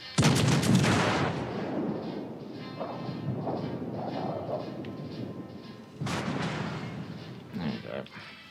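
Naval artillery fire in a warship video game: a loud, close salvo of cracking blasts opens, followed by rumbling impacts and softer thuds, then another heavy volley, with someone talking over parts of it.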